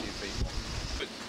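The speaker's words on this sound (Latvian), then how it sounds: "vējam pēkšņi pastiprinoties un mainot virzienu" Strong wind buffeting a microphone by the open sea, with steady broadband rush and low gusty rumble, waves and surf mixed in close throughout.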